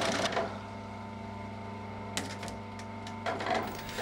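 Poppet valves in a digital hydraulic motor fire over a steady low mechanical hum, producing soft, gentle chattering bursts of rapid clicks at irregular intervals.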